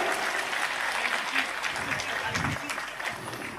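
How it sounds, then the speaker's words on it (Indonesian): Applause from an audience at an Islamic boarding school gathering honoring a sayyid, a steady wash of clapping with a voice talking faintly over part of it. "Tepuk tangan untuk Sayyid Zulfikar."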